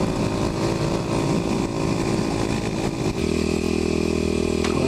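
A Kawasaki KLX250sf supermoto motorcycle engine drones steadily while riding offroad, loud and close, with a rough low pulse that changes pitch partway through as the throttle shifts.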